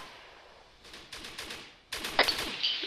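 Gunfire in the video game ARMA 3 during a Bundeswehr paratrooper mission, heard as rapid bursts of shots in two clusters, the second louder and closer, over steady background noise.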